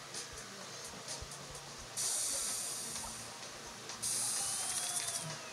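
Emz's spray attack in the Brawl Stars mobile game, bursts of bright hissing spray that start abruptly and fade over a couple of seconds, repeated twice over a mechanical ratcheting game background, no talking.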